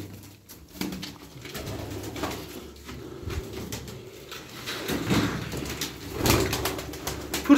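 Racing pigeons coo and flap their wings in a loft, a steady mix of low cooing and rustling wingbeats with a few louder bursts near the end.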